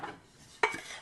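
Spiced green beans tipped onto a rimmed metal baking sheet, a quick scraping rustle followed by a sharp metallic clatter, close and brief with no talking.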